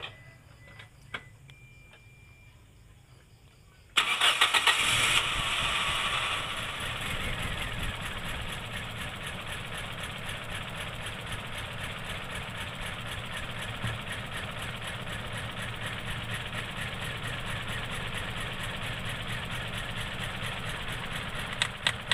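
Petrol engine of a Toyota Kijang Innova, running rough and thirsty, is started after a few seconds of quiet, catching with a loud burst and then settling into a steady ticking idle that carries on alone.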